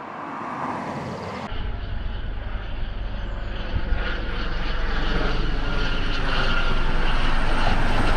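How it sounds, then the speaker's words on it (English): A loud helicopter drones overhead, a steady low roar that swells gradually as it passes, with no voices. "It's that bad I'm getting random helicopters now."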